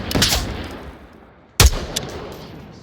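An M16A4 rifle fires in the VR shooter Onward: two loud, close single shots about one and a half seconds apart, each a sharp crack with a brief echoing tail.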